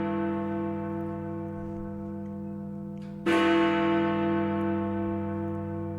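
Big Ben's great bell in London strikes once, loud and close, a long sustained ringing tone with rich overtones that hangs and slowly fades.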